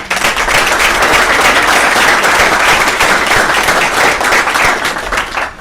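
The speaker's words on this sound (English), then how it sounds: "Let's give all three of our presenters a big round of applause." Loud, dense applause from a conference audience for presenters at a talk on shale gas development in Latin America, sustained clapping that continues at full strength with no talking.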